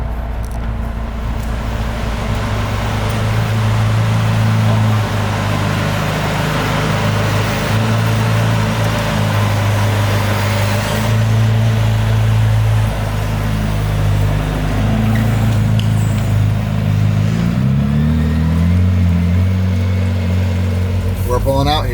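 McLaren Speedtail hypercar pulling away and driving on a wet, rainy road, a loud steady low engine drone with tyre and road hiss, pitch shifting near the end, heard from inside the car.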